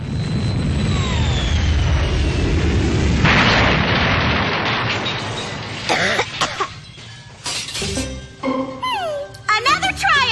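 Cartoon explosion of an exploding pie: a loud, sustained blast and rumbling roar, followed by crackling debris and coughing sounds, with voices talking afterward.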